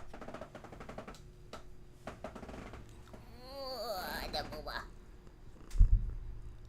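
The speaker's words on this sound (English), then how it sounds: "Oh, you brought purrs?" A house cat purrs close by as it arrives, a soft low rumble that swells in the middle of the clip, with a voice and other faint sounds around it.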